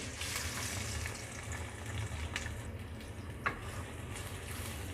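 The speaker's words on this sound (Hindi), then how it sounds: "तो अब हम करेलों को अच्छे से फ्राई करेंगे" Bitter gourd sizzles steadily as it fries in hot oil, a dense continuous crackle close by, with an occasional faint clink of stirring.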